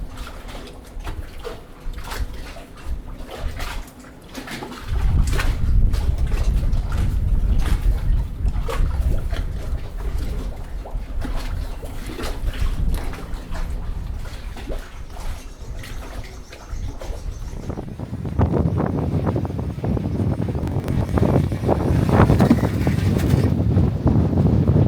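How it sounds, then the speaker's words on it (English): Gusty wind buffets the microphone on the back of a boat on a windy afternoon, a steady rushing roar that swells louder partway through and keeps blowing with no voices. "It's a pretty windy afternoon as well"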